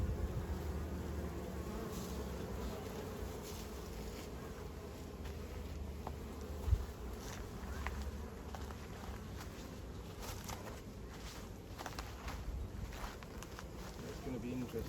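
Honeybees buzz steadily around hives in a botanical garden, a continuous droning hum throughout with some wind noise and faint background voices.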